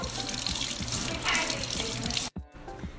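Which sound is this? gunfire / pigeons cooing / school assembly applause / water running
water running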